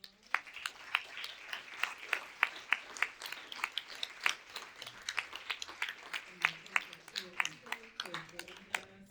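Sparse, scattered clapping from an audience thanking a panel after a discussion on the Constitution and religious freedom at Montpelier, individual claps distinct and fairly quiet, with a voice or two murmuring underneath.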